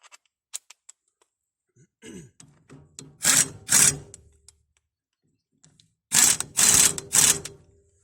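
An AEROPRO impact wrench fitted with a plain non-impact socket loosens a nut. Two short whirring bursts follow a few scattered clicks, then a longer rattling burst pulses three times after a pause. Nearby and fairly loud, with no speech.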